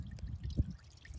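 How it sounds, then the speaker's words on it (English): Coolant trickles and splashes out of the bleeder on a 2001 6.6L Duramax diesel engine during a thermostat change, a faint close-up pouring sound with a brief gurgle. "as soon as your water or coolant starts coming out of there"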